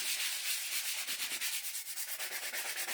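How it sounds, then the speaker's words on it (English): A sanding block rubbed back and forth over the edges of a small wooden sign, a steady raspy scraping in quick, even strokes, close and alone with no talking. "I'm going to take my little sign here and my sanding block, and I'm just going to go over that"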